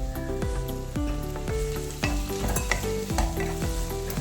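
Chopped tomatoes sizzle in a pan of chicken curry with capsicum, with a steady hiss and repeated scraping stirs of a spoon, close up, under soft background music.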